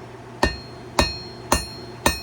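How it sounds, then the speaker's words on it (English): Four evenly spaced, ringing hammer blows forging a high carbon steel herb chopper on an anvil, close and sharp with short decays. "keep hammering, keep it flat"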